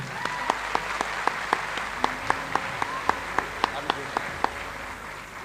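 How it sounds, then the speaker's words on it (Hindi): Audience applause at a seminar meetup, a steady bed of many hands clapping with sharper individual claps punctuating it at a regular beat, moderately loud and continuous throughout. "तालियां बजाइए"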